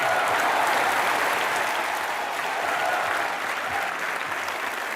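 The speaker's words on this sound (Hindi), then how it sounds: "जोरदार ताली एक बार सुभाष सर के लिए।" A studio audience on a comedy show claps loudly and continuously, a thick sustained wash of many hands that holds strong throughout and fades only slightly toward the end.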